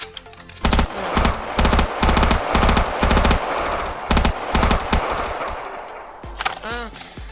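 Automatic FAMAS rifle fire in a video game comes in several loud, close bursts of rapid shots. Quieter game sounds fill the pauses between bursts.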